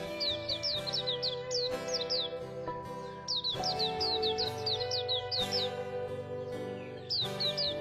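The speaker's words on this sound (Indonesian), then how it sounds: "Soalnya dari tadi suara burung semenjak saya masuk ke sini" Birds chirp by a fish pond with quick, bright, repeated calls in clustered runs, close and clear over a steady tonal background.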